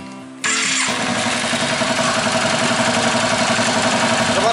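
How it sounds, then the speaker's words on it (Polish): A Yamaha Virago XV 535 motorcycle, struggling to fire on one cylinder, cranks briefly, catches and settles into a loud, steady idle with a rough, pulsing beat, heard close up. "Uruchomię silnik"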